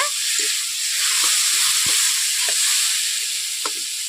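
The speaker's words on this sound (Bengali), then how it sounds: "মশলার মধ্যে আমি নেড়ে নেড়ে ভেজে নেবো" Potatoes frying in oil with spice paste in a pan for a Bengali fish curry, loud steady sizzling broken by repeated scraping stirs of a spatula, close and without talk.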